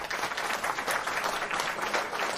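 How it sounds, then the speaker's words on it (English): Modest, lackluster applause from a small crowd, a thin steady patter of clapping that holds at a fairly low level throughout. "That's some lackluster applause there"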